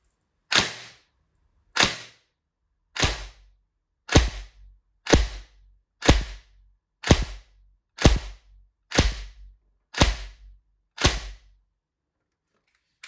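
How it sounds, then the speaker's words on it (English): A Tokyo Marui HK417 NGRS airsoft gun fires single shots through a chronograph, eleven sharp, loud cracks spaced roughly a second apart, each with a quick mechanical thump and short decay, no talking. "So let's chrono the thing."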